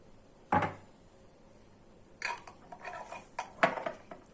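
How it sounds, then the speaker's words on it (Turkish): Metal lid being screwed tight onto a glass jar of homemade tomato preserves, a sharp clack followed by several scraping twists and knocks, close and fairly loud with no talk. "Kapağını sıkıca kapatacağım."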